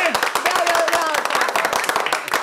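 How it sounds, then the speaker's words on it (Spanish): A small group gives Charito, the cook, a lively round of clapping, sharp and fairly close, with voices and a cheer mixed in over the quick, uneven claps. "Aplauso para nuestra Charito!"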